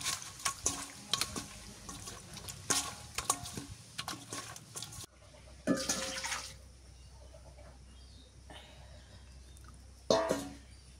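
River fish being mixed by hand with turmeric powder in a bowl makes wet squelching and sloshing sounds in short bursts, close by, with a few louder clattering splashes later on.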